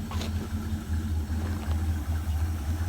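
A 1971 Plymouth Fury Gran Coupe engine idles steadily nearby, a low even rumble with a faint rhythmic pulse and no revving.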